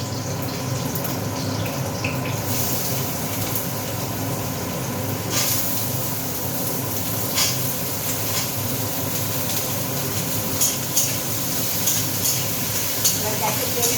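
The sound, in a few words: potatoes and green chillies frying in a pan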